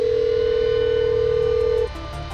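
A telephone dial tone sounds steadily while a call is placed, a single clear hum lasting nearly two seconds before cutting off, over faint background sound.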